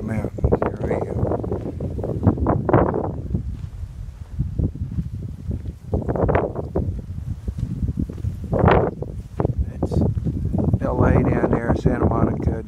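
Gusty wind on a hiking trail in the Santa Monica Mountains buffets the microphone in loud, uneven rushes for the whole stretch, with a voice faintly mixed in.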